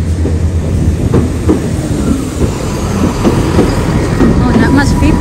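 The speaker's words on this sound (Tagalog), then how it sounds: "look at the train" A train rumbles past at close range, a steady heavy roar with rhythmic clacking of wheels on rails, while people talk faintly over it.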